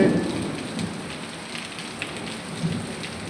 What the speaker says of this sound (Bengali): আজকে অনেক সুন্দর একটি বৃষ্টি নেমেছে